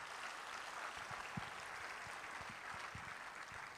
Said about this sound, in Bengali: আজকে আপনারা বসে দেখছেন, তাদের জন্য খুব জোরালো একটা হাততালি হয়ে যাক।